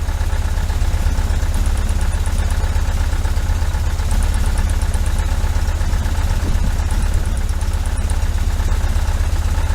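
A 1973 VW Super Beetle engine fitted with a Dellorto FRD 34 carburetor idles steadily and loudly up close, a constant low drone with faint periodic ticking, no talk over it.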